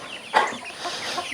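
Chickens cluck close by, with one louder squawk early on and softer clucks continuing over a faint outdoor background.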